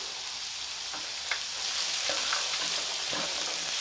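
A pan of carrots and peas fries with a constant bright sizzle, punctuated by a few soft stirring knocks, close and fairly quiet with no voices.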